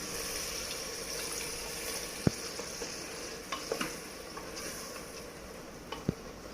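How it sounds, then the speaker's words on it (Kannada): Water poured into frying mutton masala for a homemade tomato mutton curry sets off a steady, soft sizzle and hiss, broken by occasional small clicks and pops of utensils, with no talking. "ಮಟನ್ ಬೇಯಕ್ಕೆ ಸ್ವಲ್ಪ ನೀರು ಹಾಕ್ತೀನಿ"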